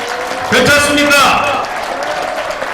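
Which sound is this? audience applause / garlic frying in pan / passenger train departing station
audience applause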